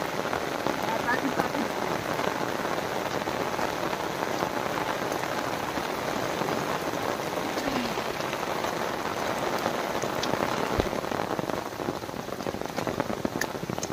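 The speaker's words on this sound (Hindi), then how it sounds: "दिन भर ऐसी बारिश है" Heavy rain pours down during a cloudburst in a mountain village, a dense, loud, continuous hiss of drops striking surfaces that holds steady from start to finish.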